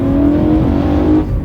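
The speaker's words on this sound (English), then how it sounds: "Right now I have the valves closed on the exhaust so that you can really get the induction" Car engine with exhaust valves closed, its intake induction note carrying a steady, loud drone that holds for over a second before easing slightly at the end.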